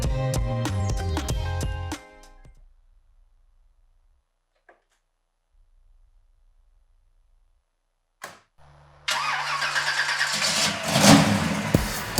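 A 1965 Chevrolet Impala Super Sport engine cranks and fires up after a quiet pause, settling into a loud, rough idle with a revving swell.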